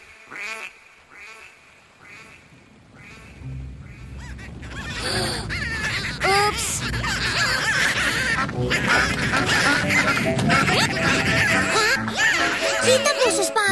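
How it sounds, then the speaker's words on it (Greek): A large flock of cartoon ducks quacks in a dense, overlapping chorus after a duck whistle, the clamor building from sparse calls into a loud, continuous din. "Κοίτα πόσες πάπιες! Η παπιοσφυρίχτρα παρά ήταν δυνατή!"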